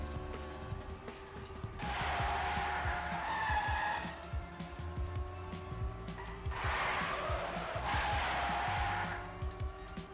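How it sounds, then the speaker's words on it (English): A race car in a 24-hour road racing video game scrapes along a wall and skids, with two long tire-squealing slides over steady engine drone and no voices. "Slink hits the wall, but not a bad place to crash"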